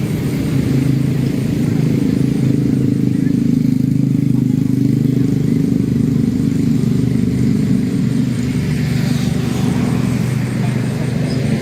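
Motorcycles and other traffic rumble past steadily on a street in Merauke, a continuous loud engine drone with no clear gaps between vehicles.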